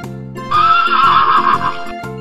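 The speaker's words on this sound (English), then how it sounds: "Horse." A horse gives a single loud, close neigh lasting over a second, its whinny rising and falling before cutting off, with a short calm passage on either side.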